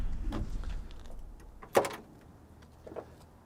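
A 1965 Ford Mustang convertible door unlatches with a sharp mechanical click and a soft thud, followed by a quieter rustle; brief, close and otherwise quiet.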